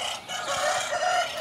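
Chickens on a poultry farm in Repalle call in a fenced run, a drawn-out clucking and crowing tone rising over a soft outdoor background, with no one speaking.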